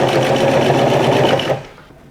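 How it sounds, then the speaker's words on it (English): Sewing machine running steadily as it top stitches a shirt made from a bed sheet, a close, even whirring burst that stops abruptly after about a second and a half. "Once again, I top stitch."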